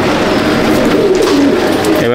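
Madrasi pigeons give low, rolling coos close by, a steady murmur of several birds running through the whole stretch with a little background noise.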